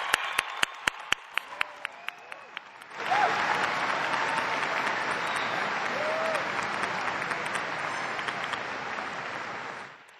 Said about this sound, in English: Let's give a round of applause to thank these brave men and women.